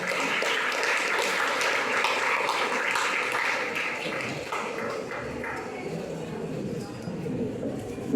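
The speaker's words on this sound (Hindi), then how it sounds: "तालियों के साथ स्वागत करें" Audience clapping to welcome a speaker to the stage at the closing ceremony of an annual coaching session, a steady wash of many hands that holds for the whole stretch, with a voice murmuring faintly underneath.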